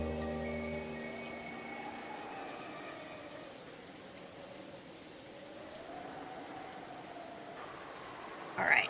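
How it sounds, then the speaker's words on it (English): Steady rain seeps into a quiet dining hall in the Umineko visual novel, a soft continuous hiss that holds for several seconds, with a low hum and music tones fading early and a brief clatter near the end. "you couldn't ignore the sound of the rain sneaking into the dining hall"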